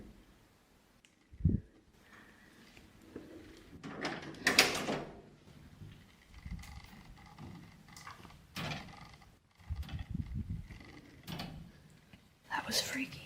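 Door in an abandoned building shifting and rattling in scattered bursts of scraping and knocking, with a sharp thump early and louder rattles midway, mixed with quiet whispered talk.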